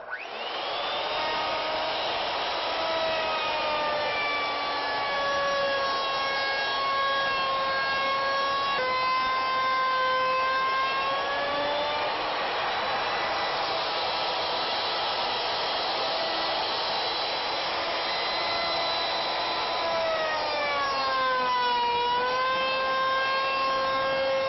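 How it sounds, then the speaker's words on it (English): A CNC router climb milling along the edge of a wooden fireplace piece gives a loud, steady whine that runs unbroken for the whole stretch, its pitch wavering and shifting as the cut proceeds, with no talking. "we're going to climb mill along this edge by cutting from the right to the left"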